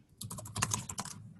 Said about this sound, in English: whatever you are typing in the Google Doc, Tim.